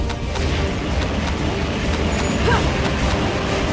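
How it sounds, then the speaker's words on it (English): S-mine explosions in Metal Gear Solid Peace Walker, heavy booming blasts and crackling detonations layered over a dense, loud battle din, with no voices. "Launching S-mines"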